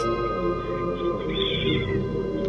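Cats fighting, giving a loud, continuous, drawn-out yowl that wavers in pitch and fills the whole stretch without a break, with no voices over it.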